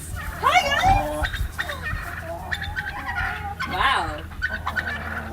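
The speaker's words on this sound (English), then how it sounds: "Oh my god, it's chickens!" Chickens cluck and call close by, with several loud squawking and rising crowing-like cries over a noisy background as people talk and exclaim.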